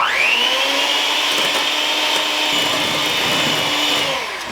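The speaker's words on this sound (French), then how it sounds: "le mixeur et on monte ça" An electric mixer whips fresh cream into chantilly: a loud, close, continuous motor whine with a steady pitch that runs throughout and eases off at the very end.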